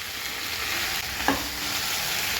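A spoon stirs tomato pieces with mint, coriander and fenugreek leaves in a hot pan for tomato chutney, a steady close sizzle with one brief scraping stir.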